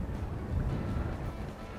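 Wind gusting around 25 to 30 mph over a fishing boat on Baffin Bay, Texas, making a steady, close, low rumbling roar that buffets the microphone without pause.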